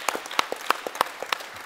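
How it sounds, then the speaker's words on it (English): A short burst of applause at a panel discussion, scattered claps from a modest crowd rather than a roaring ovation, fairly close and even in loudness. "Give him a round of applause."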